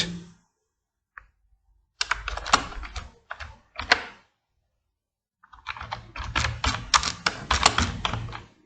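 Bursts of rapid typing on a computer keyboard while entering text in PowerPoint, with quick irregular clicks in two clusters separated by a short pause, close and fairly loud with no talk.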